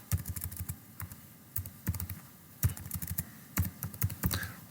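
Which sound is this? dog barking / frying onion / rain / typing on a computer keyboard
typing on a computer keyboard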